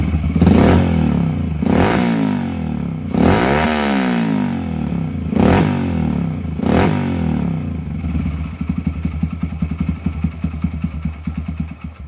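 A 2007 Yamaha TT-R125 dirt bike with a dirty, troubled carburetor sputters and idles very low, with several uneven revving bursts followed by a rough, pulsing, faltering idle that sounds ready to cut out.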